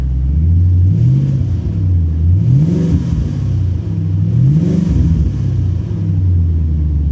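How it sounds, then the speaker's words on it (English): A supercharged C4 Corvette with fire damage, parked at a salvage auction lot, revs repeatedly: a loud, close engine note that rises and falls in about three smooth blips over a steady idle rumble, with no talking. "Let's give her a little rev."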